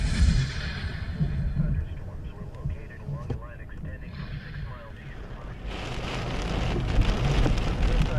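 Steady rain from a July thunderstorm in Iowa, a dense continuous patter on surfaces throughout, fairly close, with faint talking mixed in.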